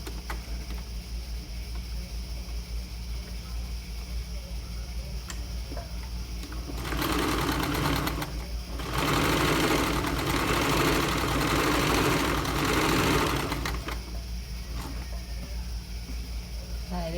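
A sewing machine stitches a blouse seam, with a steady low motor hum throughout and a louder run of continuous stitching in the middle, heard close and without talk.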